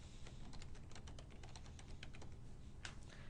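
Rapid keystrokes on a computer keyboard tap out a quick, uneven rhythm, close and fairly quiet over a faint steady background hum, with no voices.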